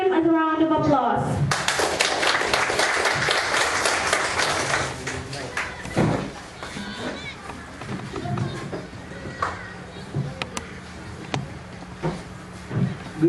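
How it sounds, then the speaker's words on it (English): Classroom audience clapping for the first debate speaker, a dense burst of many hands that builds quickly, then thins into scattered claps and thumps as voices murmur in the room. "Let's give him a round of applause."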